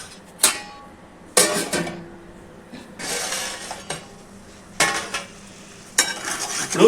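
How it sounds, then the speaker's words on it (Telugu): Gongura chicken curry is stirred in a pan: five or six distinct bursts of scraping and sizzling, each lasting about a second, separated by quieter pauses, close and fairly loud. "మొత్తం బాగా కలిసేటట్టు ఇలా కలుపుకుందామండి."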